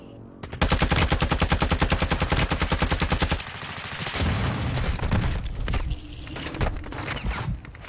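Video game gunfire on a battlefield map: a long rapid automatic burst of evenly spaced loud shots for about three seconds, then scattered rumbling blasts and softer gameplay noise.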